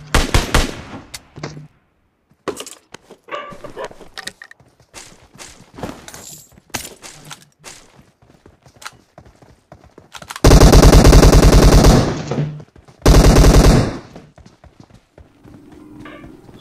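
Shotgun blasts in PUBG come as loud bursts of gunfire, with two long, heavy volleys near the middle, among scattered softer clicks and footsteps.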